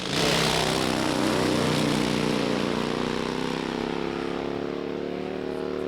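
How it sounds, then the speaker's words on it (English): A Pro Fuel Harley drag racing motorcycle makes a run, its engine roaring loud and close in one sustained harmonic blast that slowly drops in pitch as it pulls away. "Pro Fuel Harley, bike number 1."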